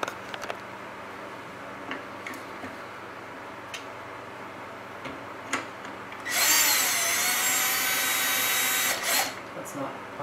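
A power screwdriver drives small screws into the front housing ring of a Chauvet Q-Spot 260 LED fixture, a steady high whine lasting about three seconds near the end, with light clicks and handling before it.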